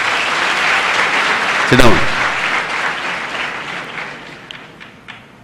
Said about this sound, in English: Yes, give a good clap for him.